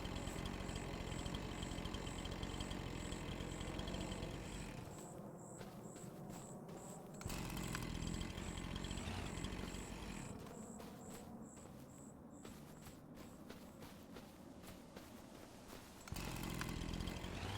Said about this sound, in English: we'll find out if we just try and use the chainsaw on the trees